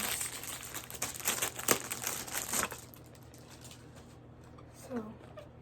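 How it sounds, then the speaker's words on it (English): Costume glasses pulled from a plastic package make close crinkling and crackling of thin plastic for a few seconds, then quiet with a faint voice. "Unwrap them out of the package first."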